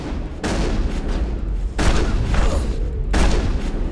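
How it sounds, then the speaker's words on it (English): Shotgun blasts in the video game Mass Effect, three heavy booming shots a second or more apart, each trailing into a dense rumbling wash of combat noise. "Now, okay, I am pulling out the shotgun."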